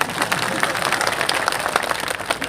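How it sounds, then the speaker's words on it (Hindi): An audience applauds at a political rally in Sardarshahar, brisk scattered clapping that stays fairly loud and steady for the brief stretch. "ताली तो बजानी पड़ेगी भाई साहब।"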